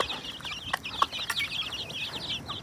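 Young Sussex chicks, some incubator-hatched and some hen-hatched, peep in a busy, overlapping high chorus, mixed with a few soft clucks and clicks, close and continuous.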